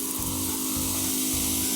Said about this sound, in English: that's a pretty powerful little spray